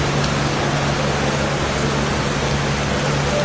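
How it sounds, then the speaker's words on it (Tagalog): Heavy rain pours outdoors with a steady, loud, unbroken hiss of downpour that fills the whole moment, with no talking. "Sobra po lakas ng ulan, ha."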